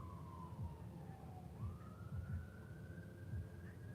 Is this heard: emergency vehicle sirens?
yes